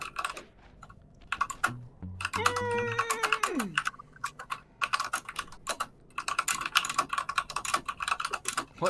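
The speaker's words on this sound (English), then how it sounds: "What are you typing?" Fast clattering keystrokes on a mechanical keyboard, close and fairly loud, in dense irregular bursts with brief pauses. A short low hum and a sliding tone sound early on.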